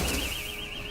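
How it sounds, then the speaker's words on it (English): A car alarm sounds outside during a gaming session, a wavering high-pitched electronic tone that rises and falls steadily, distant and fairly faint under a low background rumble. "That's just the car alarm."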